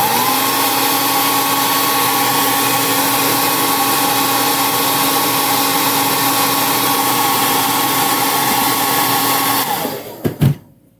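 A heat gun runs steadily on a part at close range, a loud, even blowing whoosh with a fixed whine that holds for about nine seconds before cutting off, followed by a couple of small clicks.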